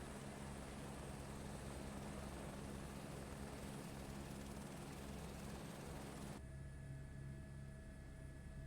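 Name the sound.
helicopter flying in Microsoft Flight Simulator 2024 video game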